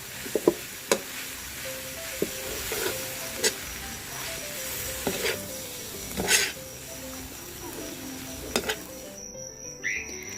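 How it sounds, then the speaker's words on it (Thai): Vegetarian yakisoba noodles with carrot are stir-fried in a pan, a steady low sizzle broken by scattered spatula scrapes and taps, faint and close, with no talk. "หลังจากใส่แครอทไปแล้วค่ะ ก็ผัดอีกสักเล็กน้อยนะคะ"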